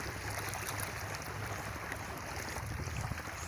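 A steady low engine drone mixed with rushing water and wind, continuous and fairly distant, as a motorboat approaches at Bom Jesus.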